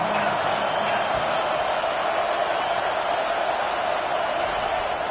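A football stadium crowd at Texas vs Oregon roaring to pressure the offense, a dense, steady wall of cheering and noise sustained throughout, with no break in intensity.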